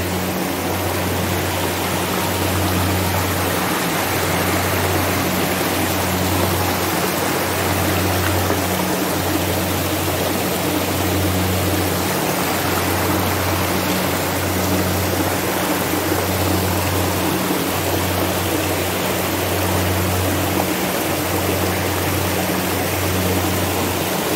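A steady, loud rush of flowing river water near a waterfall beneath bamboo forest in the Mount Terangker area of Ciamis, running continuously with a low pulsing hum beneath the broadband roar and no voices.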